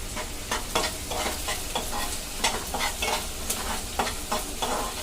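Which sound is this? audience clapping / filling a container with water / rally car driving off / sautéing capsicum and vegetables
sautéing capsicum and vegetables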